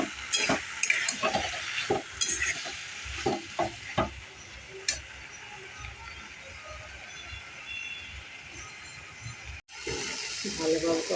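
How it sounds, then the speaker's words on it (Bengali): Spices stir-fried in a pan for kochur loti (taro stolons) with prawns: a continuous sizzle under repeated scraping stirs, busiest in the first few seconds, with a brief cut near the end. "ভালোভাবে কষানো হয়ে গেছে। এবার আমি দিয়েছি মশলাগুলোকে,"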